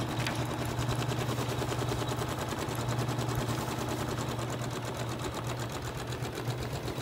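An embroidery machine stitching a denim jacket produces a rapid, steady mechanical rattle over a constant motor hum, running evenly with no pauses.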